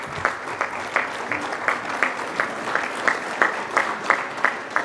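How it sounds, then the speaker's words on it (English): Conference audience at the International Galvanizing Conference claps in a fairly regular, rhythmic pattern, moderately loud and steady for several seconds, with no talking over it. "A round of applause."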